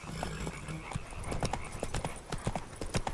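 The horse Roach's hooves clip-clop at a walk in The Witcher 3, a steady, fairly faint rhythm of hoof beats with a soft whinny mixed in.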